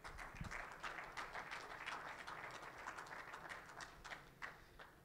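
Audience applauds at a 2021 certification graduation ceremony, a steady wash of many hands clapping at moderate distance, fairly faint and continuous, without talk.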